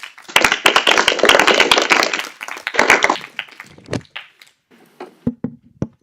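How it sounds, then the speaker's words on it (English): Audience at a pitch competition final claps in a burst of loud, dense applause that thins out into scattered, separate claps and a few last hand strikes near the end. "Can we have a round of applause?"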